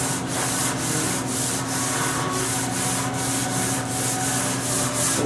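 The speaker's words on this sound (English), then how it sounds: "I'm going to use the sanding block and a quarter sheet of 320 here, and then sand with the grain." Sandpaper of 320 grit on a sanding block rubs lightly along the grain of a wooden antique-style blockfront dressing table, a steady rasping hiss with regular back-and-forth strokes, close and continuous throughout.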